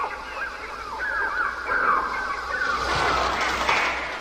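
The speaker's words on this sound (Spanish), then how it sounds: "Yo no sé si tenemos incluso el sonido de esos pájaros de fondo" Shrill bird cries from the film soundtrack of Hitchcock's The Birds screech and squawk over a dense background, rising and overlapping continuously with no talking.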